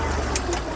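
A big tractor engine approaching in a garden, a steady low mechanical rumble with a faint rhythmic chug, moderately loud and continuous through the brief moment.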